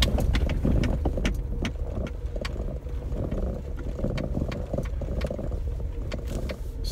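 A stock Ford Explorer on street tires climbs a rocky trail section near Wartburg, Tennessee, its engine droning steadily while rocks crunch and clatter under the tires in irregular bursts, close and fairly loud.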